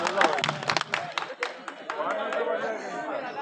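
An audience at a ghazal recital in Mumbai bursts into brief clapping and cheers, a dense patter of hands up front that thins into murmuring crowd chatter after a couple of seconds.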